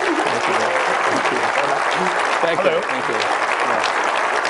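An audience applauds steadily and loudly throughout a speaker's presentation, with someone speaking briefly over the clapping.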